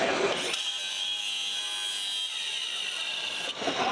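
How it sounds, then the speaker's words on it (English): A Bad Dog Tools grinding attachment grinds down hard or soft material such as metal, plastic or tile. It gives a steady, loud, close abrasive whir with no break and no voices, at a busy show floor. "metal, plastic, tile, round off edges, grind down a weld."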